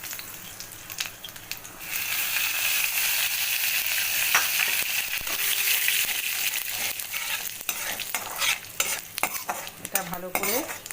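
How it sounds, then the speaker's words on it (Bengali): Fennel seeds, cumin and ground mace tempering in hot oil: a loud, bright sizzle that swells after a quieter start, with a utensil stirring and clinking against the pan nearby. "একই তেলে আমি দিয়ে দিচ্ছি অল্প, সামান্য অল্প মৌরি, সাজিরে অল্প, আর জয়িত্রীর গুঁড়ো দিয়ে আমি তেলে ফোড়ন দিয়ে দিলাম"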